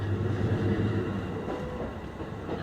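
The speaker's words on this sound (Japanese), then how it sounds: "強風のため川島から" JR Mito Line E531 series train running at reduced speed in strong wind between Kawashima and Higashi-Yuki, a steady low rumble and rolling wheel noise heard from inside the carriage, continuous and fairly loud.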